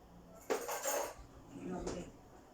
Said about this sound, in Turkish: Şimdi çatalı aldım.